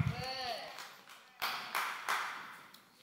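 A lone person in a church congregation claps during a sermon, a few sharp separate claps over faint room tone and an echoing voice.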